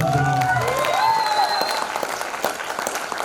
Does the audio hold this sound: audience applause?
yes